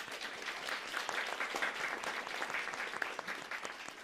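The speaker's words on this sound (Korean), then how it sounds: "수고했는데 격려의 박수." Church congregation applauding in encouragement during a Sunday service, a dense, steady wash of many hands clapping together for about four seconds with no talk over it.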